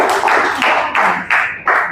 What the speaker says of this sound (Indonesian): Oke, tepuk tangan untuk Cinta.